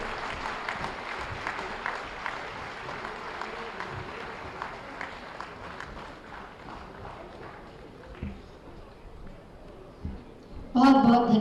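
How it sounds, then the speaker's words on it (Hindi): Crowd at a Uttar Pradesh Day state ceremony in Lucknow applauding players, a loose, moderately distant clapping that gradually thins over about ten seconds before a voice speaks loudly at the end. "एक बार जोरदार तालियां इन सभी खिलाड़ियों के लिए"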